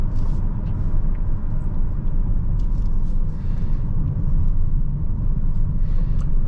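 A 2020 Honda Odyssey Elite minivan engine pulls hard past 5,500 rpm while driving, a steady loud rumble with road noise filling the cabin, continuous with no talk.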